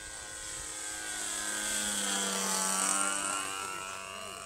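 A radio-controlled scale Lancair model plane flies past, its steady propeller drone swelling gradually and then easing off over a few seconds, heard alone without talk.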